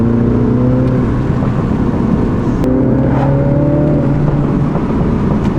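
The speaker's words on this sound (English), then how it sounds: "it's not very good for obviously the fuel economy of the car, but it does pop and bang" A sporty car's engine revs hard in manual sport mode, heard from inside with the window down, rising and falling in pitch through gear changes, loud and continuous with faint exhaust pops.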